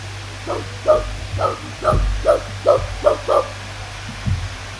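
A dog barks in a quick series of about eight sharp barks, moderately close, followed by a couple of softer yips.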